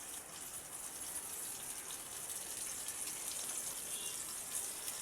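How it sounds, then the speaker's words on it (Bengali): Paneer strips coated in cornflour and salt fry in hot oil with a faint, steady hiss and crackle, continuous and alone. "এই দেখুন এইভাবে আমি এটাকে একটু লাল লাল করে ভেজে নিচ্ছি"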